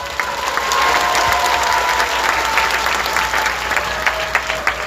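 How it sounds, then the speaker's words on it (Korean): A conference audience at a church applauds to welcome a guest pastor, a thick wash of clapping that builds and holds, with a few sharper individual claps standing out near the end. "계속해서 정말론 강의를 해주신 손흥민 목사를 박수로 환영합니다."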